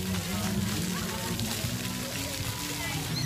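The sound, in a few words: water spraying out of a splash pad fountain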